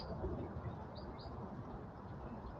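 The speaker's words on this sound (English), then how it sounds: "Some very loud birds here this evening." Very loud birds call and coo outdoors in the evening, a dense chirping chorus running steadily throughout the short stretch with no voices over it.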